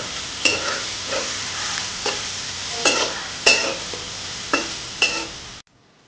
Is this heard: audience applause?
no